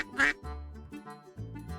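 A duck gives a loud, close quack at the start, followed by a few more nasal quacking calls in a short burst.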